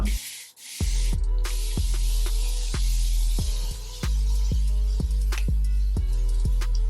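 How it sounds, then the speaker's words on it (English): Repeated short bursts of plain water from a pump spray bottle onto hair, about a dozen quick spritzes in an irregular rhythm, close and loud over a steady low background hum. "go get my spray bottle with my regular plain water in it, and we're gonna spray"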